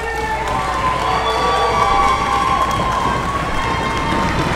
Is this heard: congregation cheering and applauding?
yes